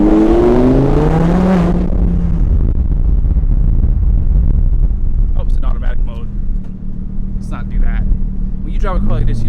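A modded Audi R8 carrying the 5.2-liter Lamborghini Huracan V10 rumbles steadily, close and loud at idle through most of the stretch, while someone talks at first and then a few short chirps sound.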